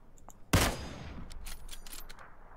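A single loud gunshot cracks out in PUBG and rings off, followed by a scatter of quieter, more distant shots.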